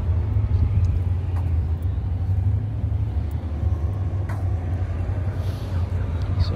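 A classic Triumph Stag on a sunny Sunday drive gives a steady low engine rumble and road drone from inside the car, continuous and fairly loud.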